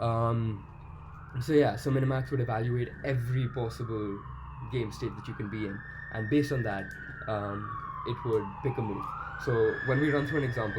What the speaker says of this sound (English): Sorry for that siren.